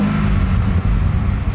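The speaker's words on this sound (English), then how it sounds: "there's a lot more induction noise on the free rev." A Corvette Z06 engine with a HallTech Killer Bee aftermarket air intake revs freely with a strong, deep intake roar, loud and close, in one short burst.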